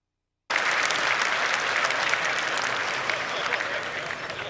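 A large crowd at a game reveal event breaks into sudden applause and cheering, a dense steady roar of clapping that starts abruptly and holds loud throughout.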